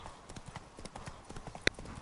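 Roach the horse's hooves in The Witcher 3, a quick run of soft rhythmic clip-clops at moderate distance, with one sharp louder knock near the end.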